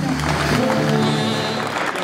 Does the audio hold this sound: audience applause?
yes